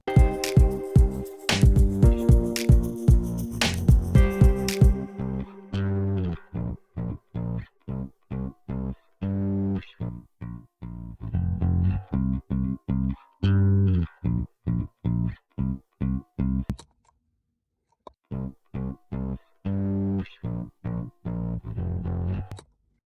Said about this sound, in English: let's have a listen to the bass with and without Magma.